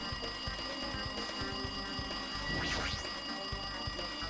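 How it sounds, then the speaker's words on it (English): Telephone ringing in the video game Danganronpa 2, a steady electronic ring with a rising warble that repeats over constant game background noise, loud and close with no talk. "It looks like that phone is ringing."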